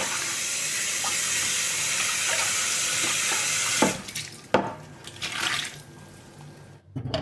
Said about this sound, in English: Just one more pan to wash.